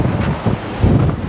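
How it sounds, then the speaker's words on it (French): Strong wind on a hilltop buffets the microphone, a loud rumbling roar with gusty surges and no speech. "Oh là là, il y a du vent."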